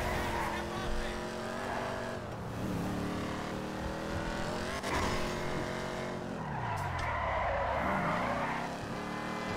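A low-slung car in the GTA 5 video game drives hard with a revving engine and repeated long tire squeals as it skids and slides, the sound loud and continuous throughout.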